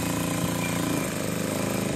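A sewing machine stitches the side seam of a box-pleat skirt, running loud and steady with a fast, even mechanical chatter from start to end.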